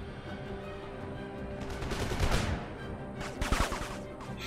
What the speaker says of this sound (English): Go on. Unleash your fire.